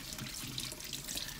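Tap water runs steadily into a kitchen sink as potatoes are rinsed one by one, a soft continuous splashing with faint drips, close and fairly quiet with no talk.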